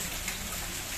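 Heavy afternoon rain in Cacimba de Dentro, Paraíba, falls as a dense, steady hiss of drops striking surfaces, close and continuous without a break.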